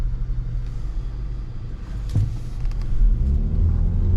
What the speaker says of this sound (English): acceleration at maybe half throttle, not too bad on this little 4-cylinder.